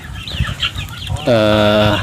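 Free-range chickens let out of their coop cluck near the microphone, a sustained harmonic call rising loudly in the last part after a quieter stretch of scattered clucks and a faint voice.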